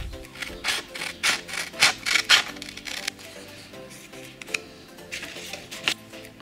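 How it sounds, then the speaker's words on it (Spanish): Close, repeated scratchy rasping strokes of 500-grit sandpaper wrapped in tweezers, scraping oxidized USB contacts, coming in irregular bursts with short pauses between them. "Usaremos papel de lija de grano 500"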